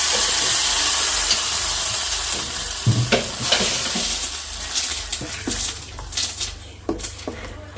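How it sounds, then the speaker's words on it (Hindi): Mustard seeds, curry leaves and two chilies sizzle in hot refined oil for idli chutney, a strong steady hiss broken by sharp pops and spatters toward the end. "इसमें मैंने रिफाइंड ऑयल लिया है, सरसों डाली है, सरसों हो गई है, करी पत्ता, 2 मिर्ची।"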